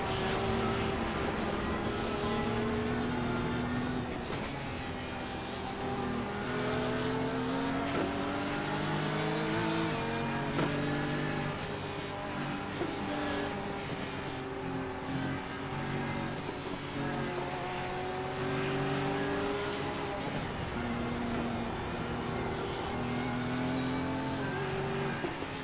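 BMW and Porsche race cars in an iRacing endurance race at the Nürburgring drone steadily, their engines rising and falling through gear changes, with several cars overlapping at moderate distance.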